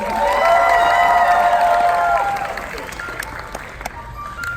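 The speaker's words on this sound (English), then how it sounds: "Let's start them off with some applause." Audience applause and cheers at a Halloween scary farm maze, a lively crowd clapping and shouting close by, with a tonal voice or whistle over the first seconds and the noise easing toward the end.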